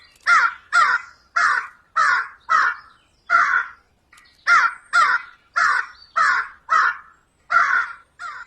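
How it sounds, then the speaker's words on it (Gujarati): A crow caws loudly and harshly, about a dozen calls in two quick bursts separated by a short pause, close by with no other sounds. "અરે, આ કાગડો આટલો બધો કેમ બૂમો પાડે છે?"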